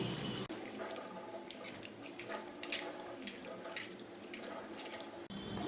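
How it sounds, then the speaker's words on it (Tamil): Onions rinsed and swished by hand in a bowl of water while preparing a Tamil non-veg lunch, giving a steady, close run of splashing and sloshing with small drips throughout. "இப்போ வெங்காயத்தை தண்ணியில் அலச போகிறேன்"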